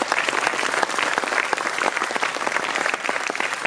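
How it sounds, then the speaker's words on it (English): An audience at the 2022 ICAI convocation ceremony breaks into sustained applause, a dense, steady wash of many hands clapping at an even loudness throughout, with no voices standing out. "I think we should give a big round of applause"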